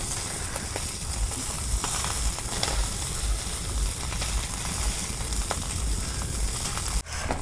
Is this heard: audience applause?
no